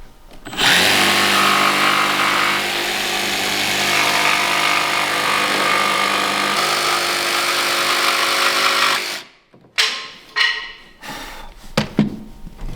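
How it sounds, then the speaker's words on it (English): A jigsaw cuts a wooden deck board on a nearby workbench, a loud sustained buzzing rasp lasting about nine seconds, then stopping, followed by several short clunks and knocks of the board being handled. "Cut it with the jigsaw."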